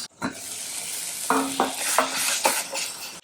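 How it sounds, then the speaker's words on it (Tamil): A spoon scrapes and clinks against a pan while curd and masala for mushroom masala are stirred, over a steady sizzling hiss of frying; a few distinct knocks stand out. "தயிரும் மசாலாவும் நல்லா மிக்ஸ் ஆகிற அளவுக்கு கலந்துக்கிட்டே இருக்கணும்."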